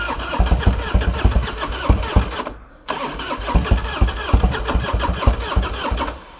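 A Harley-Davidson engine with a CV carburetor cranks and fires, catching after a brief pause, then settles into a loud, lumpy, rhythmic idle close by.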